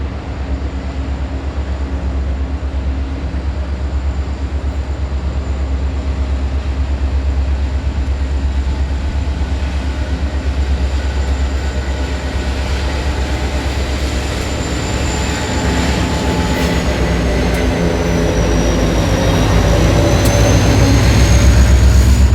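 A freight train switches cars in Rockford, Illinois, with a loud, steady rumble of rolling stock and a long high wheel squeal rising and bending near the end, close by.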